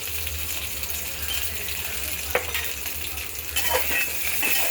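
Brinjal cooking in a pan sizzles with a steady hiss while a spatula stirs it, making occasional scrapes and soft clicks, close and without talking.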